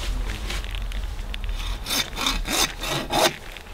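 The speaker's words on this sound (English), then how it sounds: "See how the teeth are pointing forward for sawing meat." A hand saw with its blade set backwards cuts through greasy black bear meat, giving a steady series of rasping back-and-forth strokes close by that grow louder and more distinct toward the end, with no talking.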